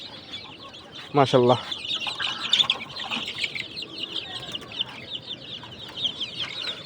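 Desi chickens on a farm cluck and chirp continuously nearby, with a high twittering of chicks throughout and a short spoken word mixed in.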